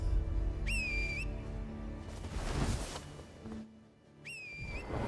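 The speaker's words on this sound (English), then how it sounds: "Why did I whistle and then my horse didn't come?" Two loud, rising two-note whistles from a video game player calling a horse, one near the start and one near the end, over steady game background noise.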